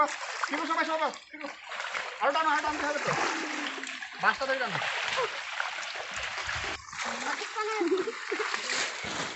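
Water hyacinth pulled from a village pond, with repeated splashes and dripping water as clumps are lifted, heard close under frequent talking voices.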